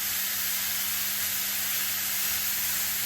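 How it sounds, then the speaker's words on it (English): Bacon-wrapped asparagus sears in a hot pan with a steady, even sizzle and hiss that holds from start to finish, close and moderately loud, with no voices. "I'm going to make sure and sear it on both sides."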